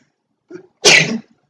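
A single sharp sneeze, close and loud, preceded by a brief quick inhale.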